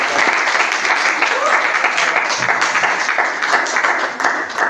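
A church congregation in Bonabéry applauds steadily, a dense wash of clapping hands that fills the space at a constant loudness with crowd noise blended in.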